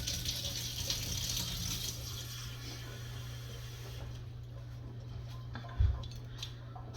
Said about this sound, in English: I'm going to start getting me a cup of water out of the sink.